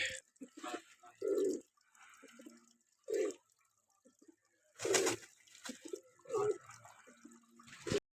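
Low, throaty coos from high-flying pigeons come in several short bursts with gaps between them, close by, along with faint background chatter and clicks.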